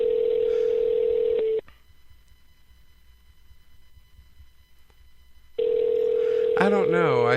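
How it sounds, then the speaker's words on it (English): Telephone call tones: a steady dial tone, a pause of near silence, then the tone resumes before a warbling automated tone sequence as the call is forwarded to an automated voice. "Call has been forwarded to an automated voice."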